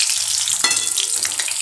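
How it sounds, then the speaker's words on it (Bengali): Pieces of fish fry in hot oil with a steady, dense sizzle close up, a brief crackling flare partway through as the oil spits. "এইভাবে আমি আরও 2 মাছ আমি ভেজে নেব।"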